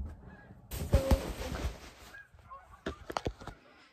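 A flock of geese honks loudly overhead past a house in a noisy burst, several overlapping calls that trail off into scattered honks as the flock passes.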